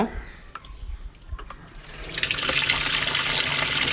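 Quiet clunks and rustles, then water suddenly gushes in and keeps pouring loudly and steadily into a machine drum.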